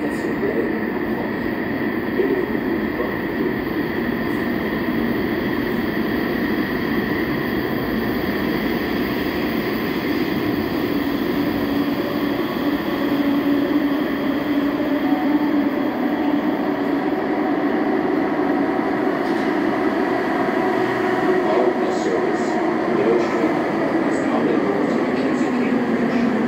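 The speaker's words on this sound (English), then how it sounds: "Eastbound train to Blair is arriving." Eastbound subway train to Blair station in Ottawa rumbling steadily into the platform, a loud continuous roar of wheels and motors lasting throughout, with faint squeals near the end and station announcements over it.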